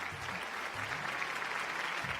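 An audience breaks into steady, dense clapping that fills the space at moderate loudness and carries on without letting up, with no voices over it.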